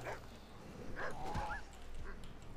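Dog barks, yips and whimpers from a dog companion fighting in a tower-defense open-world zombie video game, short scattered bursts over a busy game backdrop, fairly faint.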